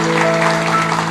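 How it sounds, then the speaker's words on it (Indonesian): A church congregation applauds its pastor, with a steady wash of clapping under sustained organ or keyboard tones, loud and continuous throughout the brief moment. "Saya tepuk tangan untuk gembala kita."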